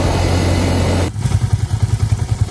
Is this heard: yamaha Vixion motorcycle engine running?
yes